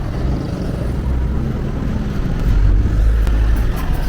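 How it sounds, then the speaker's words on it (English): Traffic rumbles past on a busy road in the colonial zone of Santo Domingo, a continuous low roar of several cars passing nearby that swells toward the end. "No, too many cars from the right."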